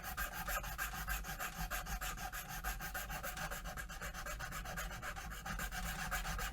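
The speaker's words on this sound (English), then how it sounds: "This doesn't take super long to file through this plastic and get it nice and lined up." A steady, continuous rasping as a hand file works through excess plastic binding on a 1957 Guild F50 archtop guitar, close and even with quick repeated strokes throughout.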